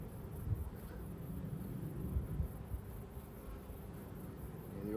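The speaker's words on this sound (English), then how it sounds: "A couple of bees starting to get a little bit antsy with me" Honey bees buzz around an open Langstroth hive in summer, a low, steady hum close to the microphone, with wind rumble and a few nearer flybys.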